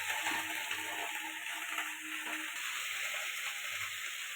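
Pointed gourd sizzles steadily in hot oil in a pan, a continuous close crackling hiss with faint stirring scrapes, no voices.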